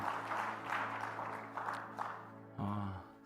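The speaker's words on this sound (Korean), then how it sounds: "격려를 담아서 힘차게 박수하십시다" A church congregation claps during a Sunday worship service, producing a steady spread of applause over a low sustained hum, then a brief voice cuts in as the clapping dies away.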